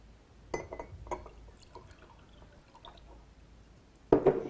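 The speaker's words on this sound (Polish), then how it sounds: "Teraz przyleję ją do szklanki." Water poured from a bottle into a drinking glass during a simple physics demonstration, heard as a few short splashy trickles and drips, with a louder pour burst near the end, all fairly faint with no talk.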